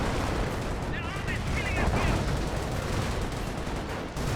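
A Bren light machine gun fires during a Company of Heroes 1 battle, giving dense continuous gunfire over a busy wash of combat noise, with a voice heard faintly in the mix.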